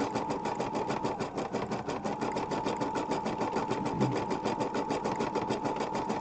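An embroidery machine sews fill stitch on an ornament, a close, fast and even needle chatter with a steady mechanical hum beneath, running without pause.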